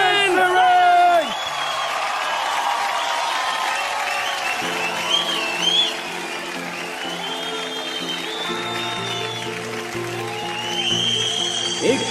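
Audience applause with whoops and cheers rises to welcome a multi-talented performer on stage, a dense sustained clapping that carries on under a voice and soft background music for the full stretch.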